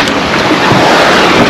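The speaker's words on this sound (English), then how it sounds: "the wind has filled in and we are sailing close haul, not quite making our tack" Loud, close wind noise and rushing waves surround a sailboat sailing close hauled off Vanuatu, a dense, continuous roar with no voices.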